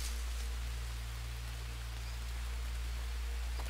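Steady rain falling in the survival video game Green Hell, a constant hiss of drops on surfaces over a low hum, with no talking.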